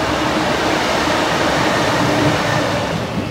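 A large train in a Manchester rail station gives a steady, loud broadband rumble and hiss with no breaks, close by.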